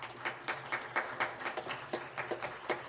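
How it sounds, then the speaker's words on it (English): Scattered clapping from a small church congregation, uneven individual claps, fairly faint and somewhat distant. "Give him a round of applause."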